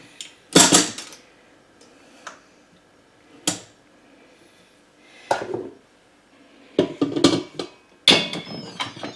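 Metal clanks and knocks from a pan being set down inside an Instant Pot pressure cooker, several sharp clattering hits spaced apart, close by, with no talking.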